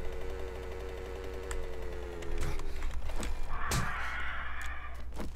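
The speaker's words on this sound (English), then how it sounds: "There's a bird." Crow cawing in the survival game 7 Days to Die, a few harsh caws rising over a steady low ambient hum and scattered clicks, fairly close and loud.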